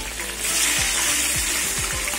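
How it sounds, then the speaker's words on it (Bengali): Pieces of catla fish fry in mustard oil in a wok, producing a loud, continuous, close-up sizzle and crackle with no pauses. "মাছগুলো তেলে দিয়ে দেবো।"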